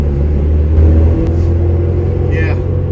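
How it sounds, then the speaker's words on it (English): A Suzuki Samurai with a worn front axle bearing on a test drive: loud, steady low engine rumble and road noise from inside the cab, with someone speaking over it. "Let's take it for a little test drive."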